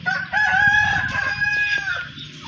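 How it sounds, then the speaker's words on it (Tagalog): Rooster crowing loudly and close over a busy farmyard of chickens clucking, with a sustained crow running through most of the stretch against steady background poultry noise. "Grabe kayo, dami yung mga manok."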